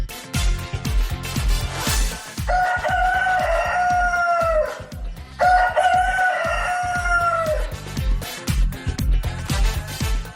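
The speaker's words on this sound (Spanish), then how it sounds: "ya han oído el cantar de nuestros gallos" Two long crows from roosters ring out loud and close over a rhythmic beat of radio jingle music, opening a Spanish morning radio show.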